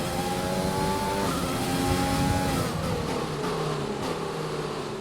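Race car engine from the F1 2020 video game screams alone at steady high revs, its pitch holding and then dropping as the car eases off, with no talk over it.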